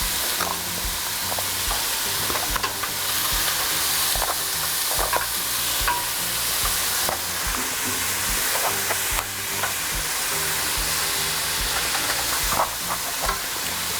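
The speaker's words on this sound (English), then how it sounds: "We'll kind of brown and cook the hamburger with this mix," Ground beef browns and fries in a pan with a seasoning mix, a steady loud sizzle running throughout with repeated scraping stir strokes and clicks, no voices.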